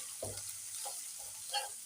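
Onion hits hot oil with ajwain and a little red chilli for a radish curry, giving a faint sizzle with a few short stirring scrapes, close but quiet.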